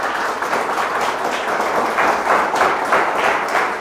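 A church congregation applauds during a worship service, a sustained wash of steady clapping from many hands with no voices over it.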